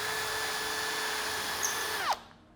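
A small 6 mm jobber drill boring a hole, a steady close motor whine that drops in pitch at the end as it spins down.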